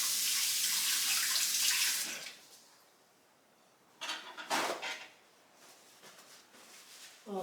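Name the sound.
rinsing hands under a running tap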